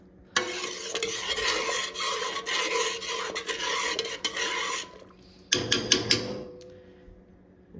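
Turkey soup being stirred in a pot on the stove, a steady close scraping and swishing that runs for several seconds, breaks off briefly, then returns in a few rougher strokes before fading.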